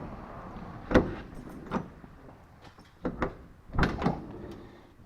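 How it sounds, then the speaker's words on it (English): A door being shut and worked on a project nearing its first start-up: several close clunks and knocks spread unevenly over a few seconds, some in quick pairs, over faint background rustle. "That door shuts easy"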